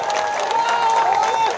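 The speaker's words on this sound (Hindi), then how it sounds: "एक बार तालियों में कंजूसी ना करें" A crowd clapping at an outdoor political rally for a Congress candidate in Tigaon, a brief steady wash of applause with some cheering over a loud voice on a sound system.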